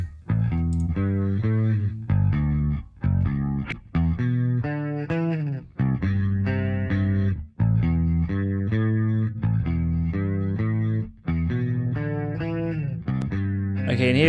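Bass-heavy music played through the Variety Of Sound Ferric TDS 2 tape simulator plugin, a continuous loud track of rhythmic notes with slight distortion and no talking.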